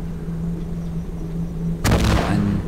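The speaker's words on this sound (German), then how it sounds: "Er wirft Granaten." A grenade blast in the video game Nether: a sudden loud broadband burst about two thirds of the way through that rumbles and decays, following a quieter stretch with a low steady hum.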